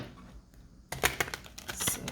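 A deck of tarot cards is shuffled with quick, faint papery flicks and taps that start after a quiet second and continue in an irregular patter.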